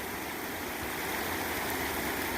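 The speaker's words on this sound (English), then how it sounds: "old creek's clicking along pretty good this morning" A fast creek swollen by a flash flood spills over farm ground, giving a steady, dense rushing wash that holds an even level throughout with no voices.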